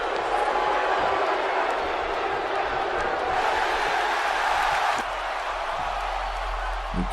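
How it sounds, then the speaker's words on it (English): A roaring arena crowd in the WWE 2K17 wrestling video game cheers steadily and loudly throughout a match, a dense unbroken wash of noise with faint commentary blended underneath. "Crowd are absolutely loving this encounter so far."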